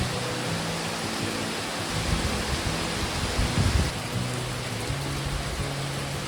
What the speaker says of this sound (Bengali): মারাত্মক ঝড়, তোমাদের দেখালাম বৃষ্টির ঝটকা কীরকম